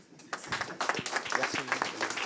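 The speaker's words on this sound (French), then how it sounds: "on peut applaudir Daniel qui a fait une excellente présentation" A seated audience applauds a speaker at a French round-table conference on digital policy, with dense, steady clapping that swells after a brief start and carries on evenly, with some speech mixed in.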